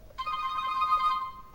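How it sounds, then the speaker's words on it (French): A ringtone from a HOMTOM HT7 PRO smartphone, set as the phone's ringing sound, plays as a bright electronic melody of short repeated notes for about a second and a half. It is clear and fairly close, with no voices over it. "Sonnerie du téléphone, c'est ça"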